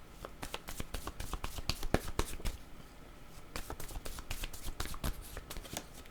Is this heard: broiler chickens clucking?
no